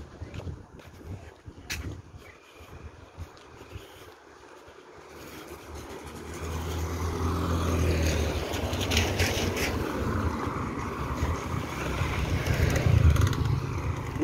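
A motorcycle carrying two dogs rides along a shaded street by Nai Harn Lake in Phuket, Thailand; its engine drone swells from a quiet start to a steady, close rumble over the second half, with no talking.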